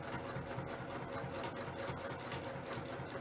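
A sewing machine runs steadily while free-motion quilting, a fast continuous stitching chatter at an even hum with no voices.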